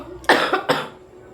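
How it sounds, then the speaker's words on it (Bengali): A close, loud fit of two or three quick coughs from an unwell woman, coming in rapid succession and then fading into quiet room tone. "কাশি হচ্ছে"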